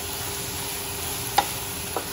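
Palak bhaji (spinach) leaves being stirred in a cooking pan, with a steady low sizzle and two brief scraping strokes of the utensil. No one speaks.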